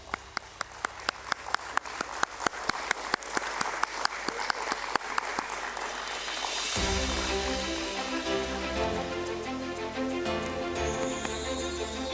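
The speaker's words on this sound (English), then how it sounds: "Can we please have a round of applause, ladies and gentlemen?" Steady applause from an audience at a BSE stock exchange listing ceremony, dense clapping sustained throughout, with a louder band of crowd noise and music-like tones joining partway through.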